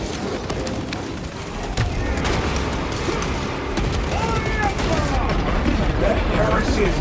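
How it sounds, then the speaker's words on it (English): Weapon magazine change in the video game Space Marine 2, metallic mechanical clacks amid ongoing battle noise and gunfire, with a voice talking partway through. "Changing magazine."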